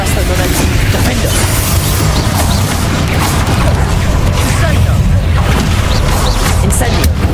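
A Bombarda explosion spell blasts in a Hogwarts Legacy duel, a loud continuous rumble of booms and crashes with dense game effects throughout, and no pause in the barrage.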